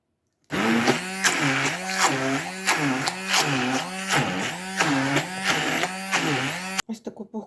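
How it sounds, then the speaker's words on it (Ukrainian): A blender whirs loudly mixing a chocolate cheesecake mixture in steady pulsing cycles, its motor pitch rising and falling repeatedly, then cuts off abruptly near the end. "зараз буду блендером міксувати"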